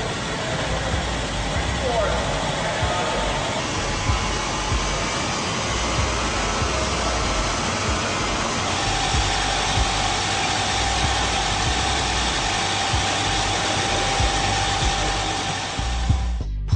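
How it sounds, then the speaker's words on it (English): A Raser Hummer H3 hybrid SUV runs on a dynamometer with power to all four wheels at sustained high speed, a steady whining drone with a rising tone, close and continuous, with narration over it. "Here, the vehicle is being bench tested with power delivered to all four wheels with sustained speed tests of up to 90 miles per hour."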